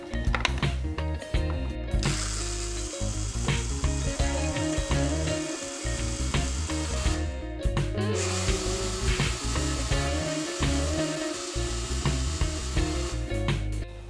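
A countertop blender grinds almonds with water for homemade almond milk, a loud continuous whirring and churning with grinding rattles, steady for the whole stretch with brief dips in intensity.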